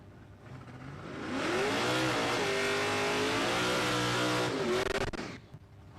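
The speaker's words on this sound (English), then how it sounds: "Gary Brett, the big block Chev powered Premier." Big block Chevrolet powered drag racing car at a dragway test day, roaring loudly as it revs and accelerates, with rising engine harmonics that swell, hold for several seconds, then cut off abruptly.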